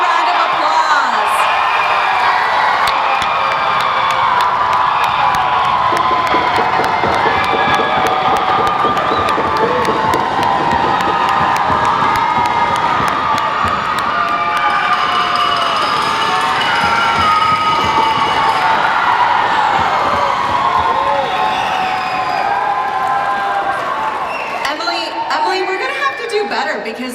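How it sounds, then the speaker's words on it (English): A high school graduation audience at Azusa Pacific applauds and cheers in a long, loud, continuous wave of clapping, whoops and shouts that lasts the whole stretch and fades slightly at the end. "Everyone give our graduates another round of applause."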